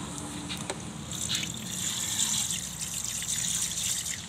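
Water trickles and splashes from the drain holes at the front and back of an outboard boat engine, a steady close gurgling flow with a few sharper drips early on.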